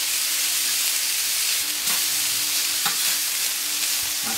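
Rice toasts on a hot plancha griddle alongside chicken-pineapple skewers, giving a steady, loud sizzle with occasional scraping and stirring taps.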